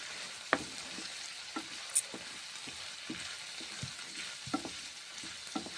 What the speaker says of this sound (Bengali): মশলা দেওয়ার পরে নেড়ে চেড়ে নিচ্ছি 1 মিনিট